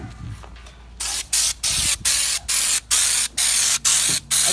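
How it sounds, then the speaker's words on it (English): Raptor spray-on bedliner hisses from a spray gun onto a truck tailgate in a rhythmic series of about eight short, loud bursts, each cut by a brief pause, after a quieter lead-in of handling noise. "But I'm doing that spray on liner with the Raptor liner."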